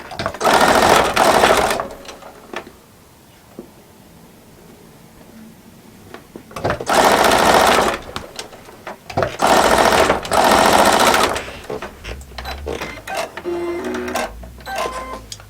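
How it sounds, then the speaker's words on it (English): A sewing machine stitching quilt fabric with a 1/4 inch seam runs in several loud, steady bursts with pauses between them, heard close up without speech. "And I'm just going to sew. If I can get my thread out the way. Again, using a 1/4 inch."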